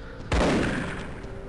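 A single video game gunshot cracks out loud and close, followed by a decaying echoing tail across the rest of the moment, with no voices.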